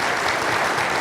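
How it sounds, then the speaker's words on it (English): A dense, even wash of audience applause for guest speaker Tim Townsend at an evening speaker series, loud and continuous throughout. "a wonderful applause for our wonderful guest tonight"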